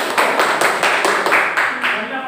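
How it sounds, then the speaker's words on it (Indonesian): A classroom of students claps in quick rhythmic unison, about ten sharp even beats that fade at the end, with voices mixed in. "Tepuk tangan yang meriah."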